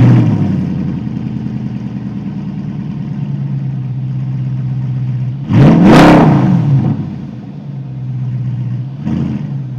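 A supercar's V8 exhaust idling with a deep, steady burble, then a sharp rev that climbs and falls around the middle, followed later by a smaller blip; loud and close with no voices.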